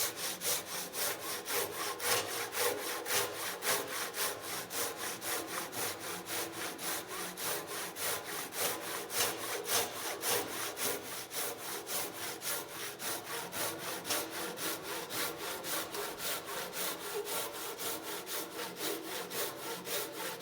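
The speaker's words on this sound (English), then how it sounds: "I'm just going to alternate between sawing down the line and sawing with the handsaw level." A Japanese hand saw cuts through wood in steady, even strokes, a rasping back-and-forth rhythm that keeps going close and clear for the whole stretch, with no voices.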